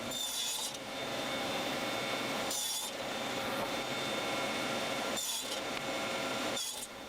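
Hand saw cutting wood sections for rustic farmhouse lantern panels, a steady continuous rasping stroke close and loud, pausing briefly a few times before resuming, no talk.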